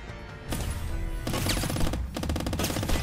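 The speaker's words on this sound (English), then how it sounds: "A squirrel with a submachine gun." Submachine gun (Uzi) fire in a squirrel video game, with loud rapid automatic bursts running almost nonstop through the clip and brief gaps between volleys.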